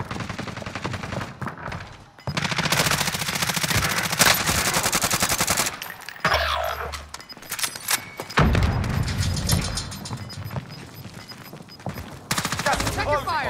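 Heavy automatic gunfire in the video game Call of Duty: Modern Warfare, dense loud bursts with thuds and booms, broken by short pauses, with players talking over it.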